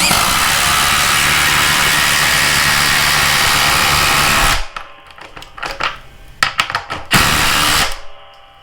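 A small DeWalt 20V MAX DCF840 impact driver runs steadily and loud for several seconds as it drives a screw into wood, then cuts off, followed by a few short, sharp bursts.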